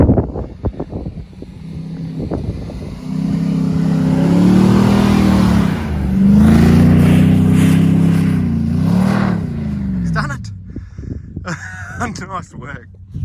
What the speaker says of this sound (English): It's great hearing all the different exhausts and stuff and seeing different cars out here.